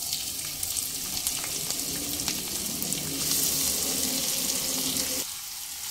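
Medium-sized chopped onions frying in a kadai for kadai chicken, a steady close hiss of sizzling oil that swells briefly midway and then drops to a quieter sizzle, with no voices.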